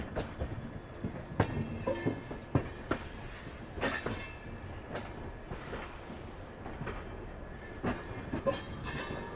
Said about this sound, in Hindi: अब एंटर कर रहे हैं लुधियाना रेलवे स्टेशन